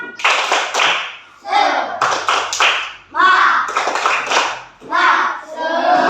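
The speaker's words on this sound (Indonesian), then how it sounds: "Ayo, tepuk semangat." A classroom group performs a rhythmic spirit clap, crisp patterned bursts of hand claps in short phrases separated by chanted voices, loud and close.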